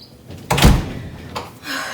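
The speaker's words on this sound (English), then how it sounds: "Let me walk you guys to the door." A door shuts with a solid thunk at close range, followed by faint rustling and a brief soft knock.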